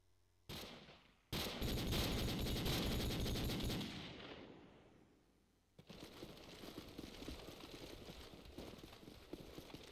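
Rapid automatic fire from an AK rifle in Call of Duty 4, heard during a competitive match as loud, dense bursts of shots with a short lull between them.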